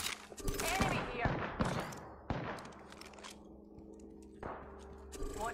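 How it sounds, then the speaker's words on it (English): Video game shooter gunfire comes in rapid bursts and single cracks, loud and close, with speech audible between the volleys. "They're shooting at me."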